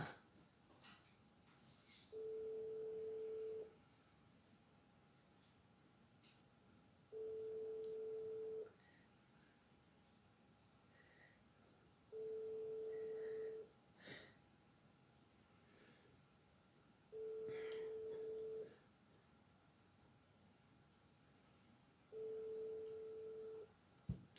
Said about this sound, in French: Ça sonne, ça sonne.